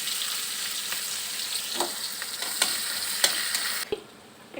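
Chopped onion fries in hot oil with cumin, bay leaf and green chilies for egg curry, giving a loud, steady, close sizzle with a few stirring scrapes. It cuts off near the end, leaving a quieter tail.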